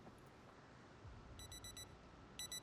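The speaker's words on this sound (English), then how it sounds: "Up with the alarm." In Project Zomboid, an alarm clock rings faintly in two short bursts of rapid electronic beeping, a few quick pulses each, over a quiet low background hum.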